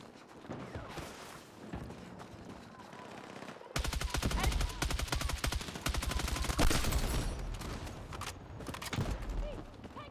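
Battlefield 6 gunfire: scattered shots at first, then rapid bursts of automatic fire that ring out loud over background battle noise.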